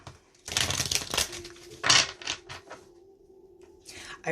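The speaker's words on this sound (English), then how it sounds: "I'm just going to do 2 more shuffles" Crisp riffling and flapping of a tarot card deck being shuffled in quick bursts, with short pauses between, close to the listener.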